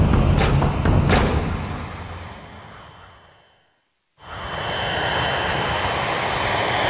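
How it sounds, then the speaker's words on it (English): A damaged Boeing 747, Flight 811, approaching Honolulu Airport on only two engines, roars loud and close with a thump early on, fades almost to nothing, then returns as a sustained engine rumble. "Severely damaged, with an unstable airframe and losing altitude on just 2 engines, Flight 811 now began its final approach to Honolulu Airport."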